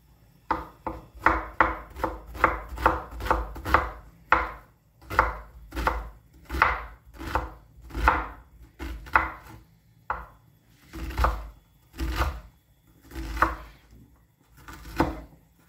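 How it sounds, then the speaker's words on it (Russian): A knife chops vegetables finely on a board for Crimean-style borscht, a long run of quick, crisp strikes that slows toward the end into evenly spaced single cuts, close and clear with no talk. "Я люблю нарезать его мелко."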